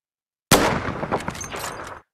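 Sniper gunfire in a Roblox first-person shooter game, one sharp loud shot that bursts in suddenly and then trails into a dense rumbling tail of game sound for about a second and a half.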